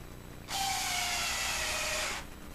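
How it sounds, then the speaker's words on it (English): A power driver runs once in a single burst of about two seconds, a bright whirring as a screw is driven into a wooden doll crib, against a quiet background. "And you can simply screw one screw in."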